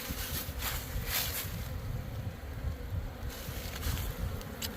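Honeybees from untreated hive colonies, unfed and left untouched since July, buzzing in a dense, continuous drone close by, with brief swells as individual bees pass near.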